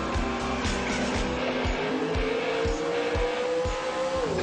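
Classic car driving on the road, steady engine drone with a rising pitch that levels off, under rhythmic thumps from the tires or road joints, close and fairly loud throughout.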